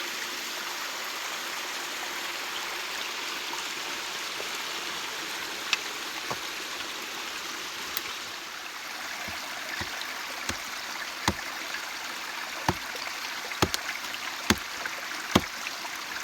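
A forest river flows steadily, with a constant rushing wash and scattered sharp clicks or knocks over the last half, close and moderately loud with no voices.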